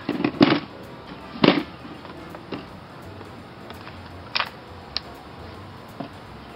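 A Tippmann TiPX paintball pistol fires a run of rounds, sharp close pops at irregular intervals with the first few loudest and the later shots fainter and spaced apart.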